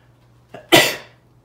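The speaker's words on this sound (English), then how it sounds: "sneezing all over the place here" A single sharp sneeze, set off by sriracha dust, with a brief intake just before and a loud close burst that trails off quickly; no talking.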